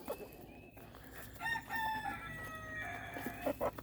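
Chickens cluck at a backyard coop during morning feeding, and a rooster crows in a long drawn-out call through the middle. Short clucks return near the end, all over steady outdoor background noise.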